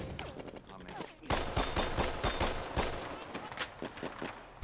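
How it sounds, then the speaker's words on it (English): Machine-gun fire in a Band of Brothers battle scene, dense and loud with rapid repeated bursts and blasts layered over background din, with faint talk mixed underneath. "These are like machine guns, basically."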